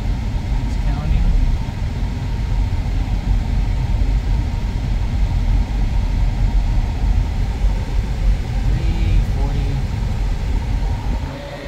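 A car cruising steadily at about 60 km/h, giving a continuous low road and engine rumble with broadband tyre noise, even and unbroken throughout, with faint voices under it.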